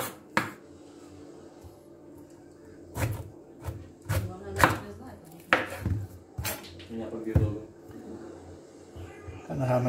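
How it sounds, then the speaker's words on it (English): A very blunt knife chops pineapple on a board, with irregular hard thuds and knocks spaced a second or so apart, some clattering against dishes, close and fairly loud over a quiet background. "we'll just show you how to chop the pineapple up with a very blunt knife"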